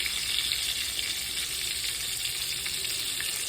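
Chicken fried steak frying in a pan on a gas stove, a dense, continuous loud sizzle of hot oil heard alone and steady throughout.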